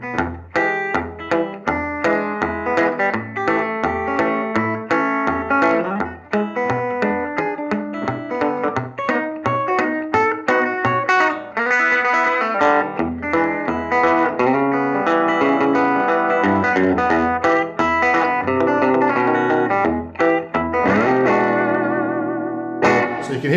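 Electric guitar played through a Watkins Dominator reissue amp set on the edge of distortion, a long run of strummed chords and picked notes with a gritty, effect-laden tone that fills the whole stretch.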